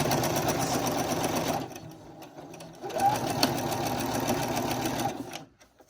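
A sewing machine stitches a seam on a bag at a 4.0 stitch length with a short backstitch, running in two loud steady bursts with a brief pause between, then stopping.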